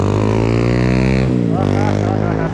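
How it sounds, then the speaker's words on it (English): A revving engine, probably a motorcycle, seen from a BMX ride, loud and close, its rising tone holding, dipping midway and climbing again. "He was just revving that thing."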